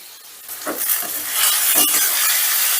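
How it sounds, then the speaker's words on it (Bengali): Soybean chunks fry in hot oil over high heat, the same oil used for frying potatoes, giving a loud, steady, close sizzle broken by a few soft stirring scrapes. "এবারে আলু ভাজার তেলের মধ্যেই সোয়াবিনগুলো ভেজে নেব"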